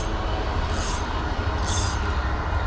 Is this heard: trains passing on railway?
yes